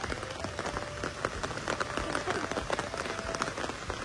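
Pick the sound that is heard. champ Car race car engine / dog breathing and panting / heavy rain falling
heavy rain falling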